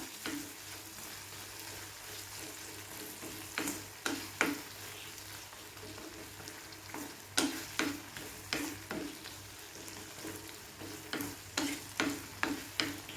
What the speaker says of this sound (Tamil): தக்காளி நல்லா வதங்கி வரட்டும்